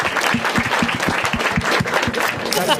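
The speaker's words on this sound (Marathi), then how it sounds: "एकदा टाळ्या वाजवा राहण्यासाठी" An audience at a Marathi stand-up comedy crowd-work show claps loudly and close by, a lively mix of sharp individual claps and steady applause, with faint voices underneath.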